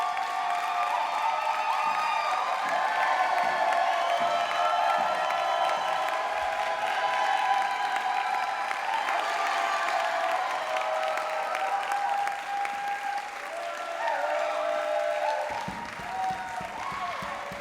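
An audience at a Lindy Hop history discussion claps in sustained, dense applause with a few cheers, fading slightly near the end as faint voices come through.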